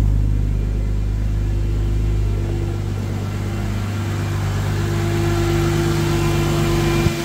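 A Nissan 240SX project car fitted with a new turbo idles steadily with a quiet exhaust, a low, even engine hum with a faint tonal whine running throughout and no talking.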